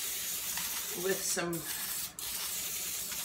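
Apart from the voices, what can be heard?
cooking spray sprayed onto parchment paper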